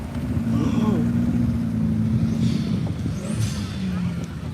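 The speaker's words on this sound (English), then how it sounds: "supercharged by the sound of it. The supercharger is so much more civilized, isn't it?" A supercharged car engine rumbles at a retro car show, holding a steady low drone with a faint whine over it, while people talk nearby.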